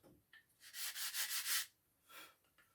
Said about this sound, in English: I'm sanding my ribs for the inner of the shroud